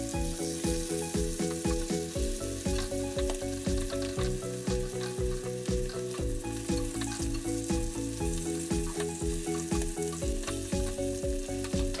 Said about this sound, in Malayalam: എന്നിട്ട് ഒരു 15 മിനിറ്റ് മീഡിയം ഫ്ലെയിമിൽ വറുത്തെടുക്കുക.